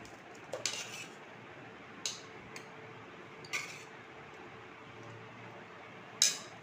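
Cooked rice being served onto a plate, a few sharp spoon clinks against the dish spaced several seconds apart in an otherwise quiet room.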